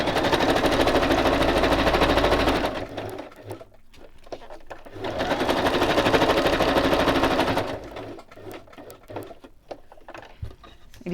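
A sewing machine runs a zigzag stitch through paper in two long steady bursts of rapid mechanical chatter, pausing between them with quieter handling clicks and rustles.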